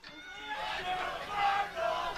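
Crowd noise swells and murmurs at a late-night Barrie versus Hamilton baseball game, a steady din of many voices with a few whistle-like tones rising through it.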